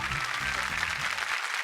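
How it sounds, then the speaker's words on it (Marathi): A studio audience breaks into brief, dense applause at a televised women's game show, steady clapping that stops abruptly after about a second and a half. "जोरदार टाळ्या होऊन जाऊ दे"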